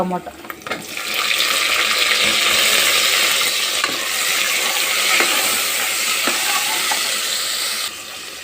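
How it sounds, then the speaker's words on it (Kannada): Garlic and ginger fry in a pan for an eggplant curry, a dense, steady sizzle close by with scattered clicks and scraping stirs, beginning after a short quiet moment and cutting off near the end. "ಬೆಳ್ಳುಳ್ಳಿ, ಶುಂಠಿ ಎಲ್ಲ ಸ್ವಲ್ಪ ಫ್ರೈ ಆಗಲಿ, ಚೆನ್ನಾಗಿ ಫ್ರೈ ಆಗಬೇಕು ನೋಡಿರಿ"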